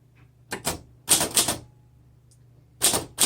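Typing on a 1929 Underwood 4 Bank typewriter: short bursts of crisp key strikes clustered in quick groups, separated by brief pauses, with faint bell-like dings and a low mechanical hum underneath, close and clear.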